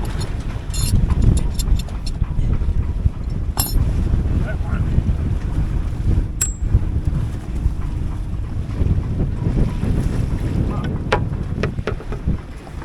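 Sailboat cruising in the Whitsundays on a windy day, with heavy wind buffeting the microphone and water rushing past the hull, loud and continuous with a few faint clanks of rigging.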